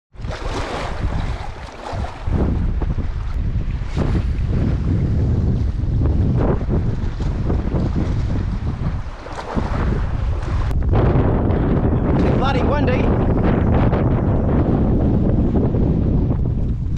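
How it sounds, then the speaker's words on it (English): Strong wind buffets a boat at sea, a loud continuous rush of gusts hitting the microphone over waves and water noise, with no talking. "Bloody windy."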